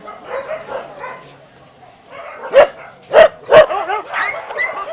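Stray dogs fighting over food poured out at a dog shelter, several close, loud sharp barks and yelps in quick bursts over scuffling whines.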